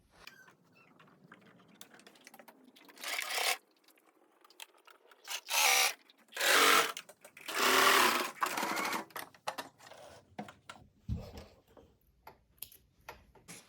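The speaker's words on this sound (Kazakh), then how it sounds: "Енді осы резинкамды тартып отырып, бұлай үстінен түзеу тігіспен тігіп шығатын болам." Sewing machine straight-stitching elastic onto a reusable cloth diaper, heard in several close, loud bursts of rapid stitching separated by quiet pauses and small handling taps.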